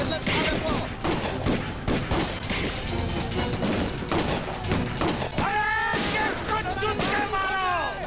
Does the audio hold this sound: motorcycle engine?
no